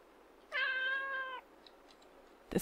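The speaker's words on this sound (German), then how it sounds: "Oh. Ist da eine Katze?" A single cat meow in the video game Alice mare: one clear, drawn-out meow of about a second rises over a quiet background, followed by faint rustles and a brief click at the end.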